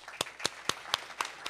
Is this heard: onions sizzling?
no